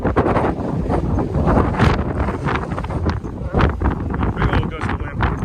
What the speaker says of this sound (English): old gust of wind.